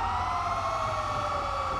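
Emergency vehicle sirens in a fire department video game, a loud, continuous wailing tone with slowly sliding pitch over a low engine rumble, heard alone without talk.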